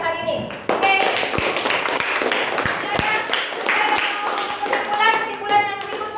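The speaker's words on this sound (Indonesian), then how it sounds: "Kita kasih aplaus untuk Lili atas jawaban kesimpulannya pada siang hari ini" Classroom applause for a student after her answer, with a scattering of sharp claps and taps running through steady children's chatter and talk close by.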